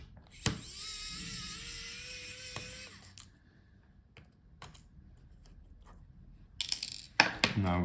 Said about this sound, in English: Unscrew all the screws.